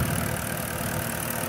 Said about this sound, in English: Sounds very healthy, very smooth, consistent idle.